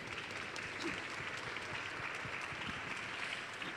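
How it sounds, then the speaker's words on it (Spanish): Audience applause for a professor at a book presentation on poverty and human flourishing, a steady, fairly faint wash of many hands clapping that runs evenly throughout. "un aplauso para el profesor."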